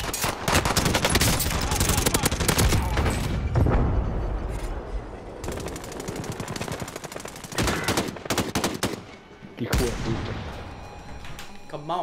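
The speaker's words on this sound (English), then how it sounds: "This dude grabbed that freaking AK." Rapid AK rifle fire in a video game crackles in loud, dense bursts with short pauses between volleys, sounding close and sharp throughout.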